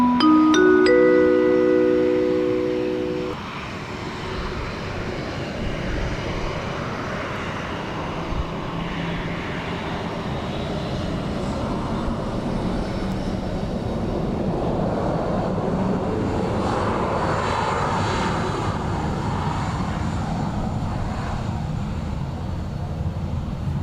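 A Ryanair airliner arrives at Dublin Airport in a crosswind, its engines a broad, steady roar throughout. Some distant murmur sits under the noise, and a few tonal beeps sound at the start.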